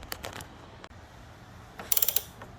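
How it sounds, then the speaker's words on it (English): Torque wrench ratcheting on the front axle bolt of a Honda VTX 1300 motorcycle, a few scattered clicks and then a quick run of sharp ratchet clicks, close by with no talking. "the next thing we're going to do is come over here and torque the axle bolt"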